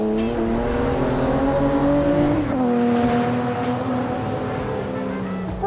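A race-prepared car's engine pulls hard on a track day, a loud close drone that holds steady, dips briefly at a gear change around the midpoint, then climbs again with no talk over it.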